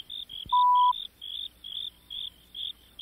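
Crickets chirp in a steady rhythm of short, shrill bursts repeating about three times a second, close and clear against a quiet background.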